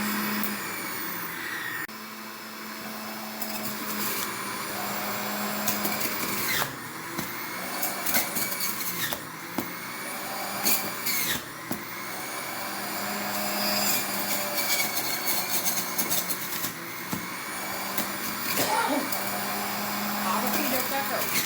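An electric juicer whirs loudly while celery is fed through it, with repeated surges and grinding as stalks are pushed in. Occasional talk comes between bursts.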